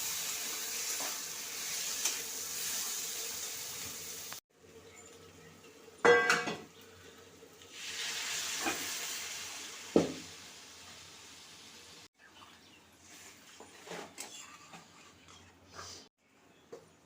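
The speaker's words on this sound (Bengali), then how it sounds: "এবার সয়াবিনগুলো ঢেলে দেবো, সয়াবিন আর আলু একসাথে কষাবো এখন।" Soybeans and potatoes being tipped into a pan of Bengali soybean-potato curry to fry together, with clattering utensil knocks and scraping against the pan over a soft sizzle, in uneven bursts and pauses.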